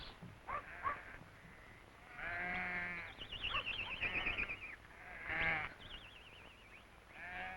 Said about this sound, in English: A flock of 400's brought down for the summer shearing by the farmer